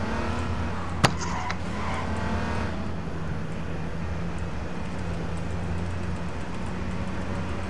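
A car engine droning steadily while driving in H1Z1, a continuous close motor hum with one sharp click early on and no voices over it.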